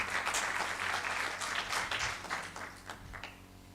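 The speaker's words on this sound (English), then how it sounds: "I would request members to give them a round of applause." Members of a university design summit audience clap for the conference organisers in a fairly quiet, brief round of applause that thins out toward the end.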